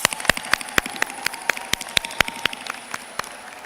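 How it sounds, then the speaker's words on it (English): Alumni of Florida Agricultural and Mechanical University applauding at a university event, heard as a few distinct, sharp claps in an irregular rhythm, close and sparse, over a quiet background. "will all alumni of the historic Florida Agricultural and Mechanical University please rise and applaud yourselves?"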